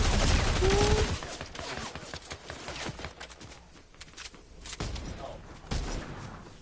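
Rapid gunfire bursts from the video game Fortnite, loud and dense at the start, then scattered shots and clicks with faint voices behind them.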